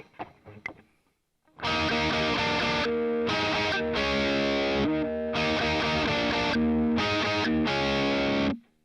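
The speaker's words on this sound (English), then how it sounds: "let's get some distortion going on here" Heavily distorted electric guitar chords through a Boss Katana MK2 amplifier ring out after a few muted string scratches, sustained and loud, with short breaks between strummed phrases.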